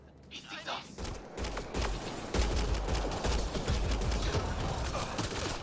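Gunfire in the sci-fi video game Mass Effect Andromeda crackles in dense rapid bursts over a busy battle soundscape, loud and continuous, with in-game voices calling out between the shots.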